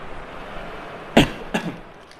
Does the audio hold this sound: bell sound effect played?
no